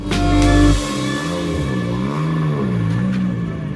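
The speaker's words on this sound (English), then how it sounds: "the 6 drivers had their opportunity to test the 4-wheel drive Fiesta Rally 3" A four-wheel-drive Ford Fiesta Rally 3 rally car drives close by, a loud engine roar at first that drops into a wavering, gear-shifting drone as the revs rise and fall.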